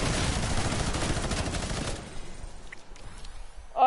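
Rapid gunfire from a video game, a dense burst of shots for about two seconds that then stops, leaving quieter game sounds and a short tone near the end.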